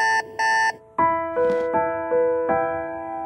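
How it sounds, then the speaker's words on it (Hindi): An alarm clock rings in a series of loud, bright electronic beeps, two short bursts and then longer repeated tones, with no talking. "शुक्र के खुदा का मैंने अलार्म सेट किया हुआ था"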